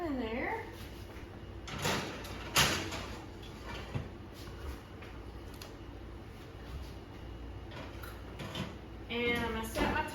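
Oven door clattering open and cake pans sliding onto the rack, with a few metallic knocks and a thud of the door, while a person talks before and after the clatter.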